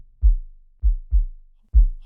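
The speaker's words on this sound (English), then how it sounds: "heartbeat sound." A heartbeat sound effect from a drum sound design library gives deep, booming low thumps in lub-dub pairs, four close, heavy beats over about two seconds with silence between, alone and without talk.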